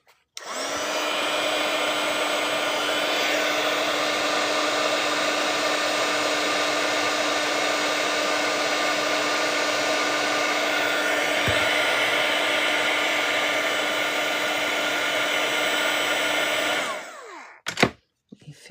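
A hair dryer blows steadily and loudly on watercolor paint for about seventeen seconds, a constant whirring rush with a faint high whine, then switches off and leaves a few brief handling noises.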